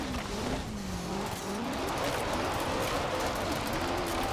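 A car in Forza Horizon 4 drives hard with a continuous loud engine roar and tires squealing through a corner.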